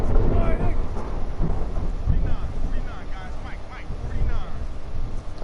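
Thunder during a lightning storm in Madden, low rolling rumbles mixed with wind and rain noise, with voices talking over it.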